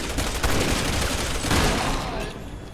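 Sniper rifle fire in the video game Resident Evil 6, dense and loud crackling bursts of shots filling the short moment, with a brief swell near the middle.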